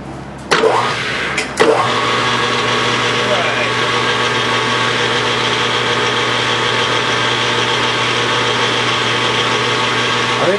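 A lathe runs steadily at higher speed while a threading tool recuts a chamfer, a continuous loud machine hum with a few sharp knocks at the start.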